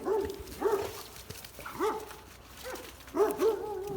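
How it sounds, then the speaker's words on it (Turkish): Pit bulls bark in short bursts, a few yips at a time with brief pauses between, fairly close and fading slightly between volleys. "Her yerden bir köpek saldırısı."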